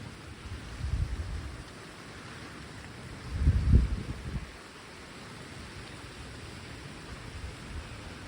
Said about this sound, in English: I knew it was gonna rain tonight